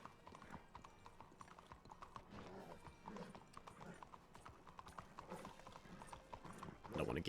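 Horse hooves clip-clop steadily in the RedM video game, a quiet, continuous trotting rhythm mixed with faint voices and background game noise.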